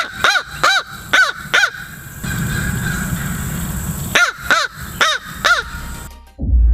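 A crow caws in two quick series of four harsh, evenly spaced calls, loud and close, separated by a pause of low background rumble, with no talk.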